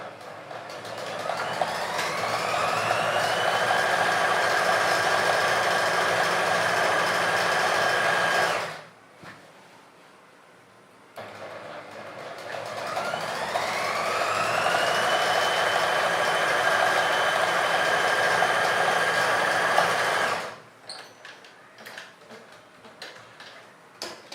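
A sewing machine stitching trousers runs in two long steady bursts, each about nine seconds, loud and close with a fast mechanical whir, separated by a short pause with light handling clicks and no talking.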